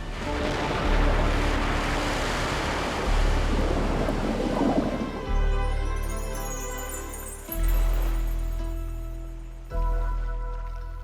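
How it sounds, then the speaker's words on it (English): Massive storm swells pound a beach and shallow reef, a loud, continuous roar of crashing surf with heavy rumbling surges that swell and break every couple of seconds, with no voices. "while massive swells pound the beach and the shallow reef."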